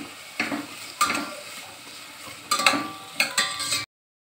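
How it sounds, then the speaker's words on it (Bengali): Carrots, beans and chicken pieces being stirred in a pan for chicken momo soup, a few separate scraping strokes with a light sizzle between them, fairly close, ending in silence. "সবজিগুলো মানে গাজর আর বিনস দিয়ে দিচ্ছি এর মধ্যে কিছু চিকেনের টুকরো এর মধ্যে দিয়ে একটু নেড়ে দিচ্ছি"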